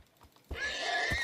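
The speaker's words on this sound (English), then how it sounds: "There's one more horse." A horse in the Minecraft video game lets out one short, bright whinny after a couple of faint soft thumps, heard fairly clearly over a quiet game background.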